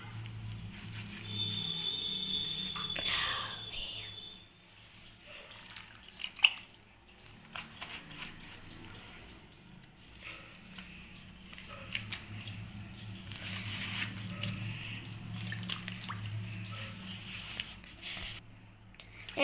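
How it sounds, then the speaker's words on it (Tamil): Sliced potatoes being washed by hand in a bowl of water for homemade potato chips, with close sloshing, dripping and squishing sounds and occasional clinks, fairly faint and continuous. "இப்போ தண்ணியில் போட்டு கழுவிடலாம்"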